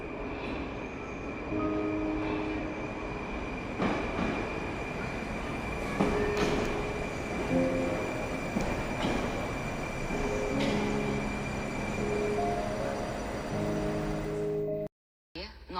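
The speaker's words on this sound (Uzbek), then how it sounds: "Bekatga poyezd kelmoqda." A metro train pulls into a Tashkent metro station with a loud rumbling roar, squealing wheels and clattering rail joints, and a long whine runs through it before the sound cuts briefly near the end.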